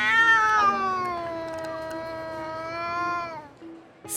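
A moody cat at a cat show lets out one long, drawn-out yowling meow, close and loud, wavering in pitch before it cuts off near the end.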